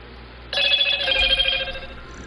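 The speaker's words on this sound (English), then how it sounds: "Shut up, phone." A telephone rings with a bright trilling bell tone that starts abruptly and rattles on for about a second before fading, over a quiet room hum.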